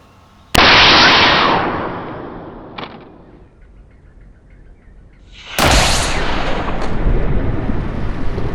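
A homemade shockwave air cannon, its middle tank at full pressure, fires a loud, sudden blast into a melon, followed by a long decaying roar. A second powerful burst hits a few seconds later, close and with no talk.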